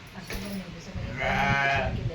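A goat bleats in a wavering, drawn-out cry during the second half, over and among people talking nearby at a family home while chakli is being made.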